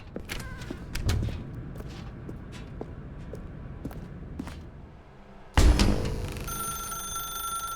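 A telephone rings in The Stanley Parable Ultra Deluxe video game, amid scattered thumps and ambient game sounds, with a louder burst near the end.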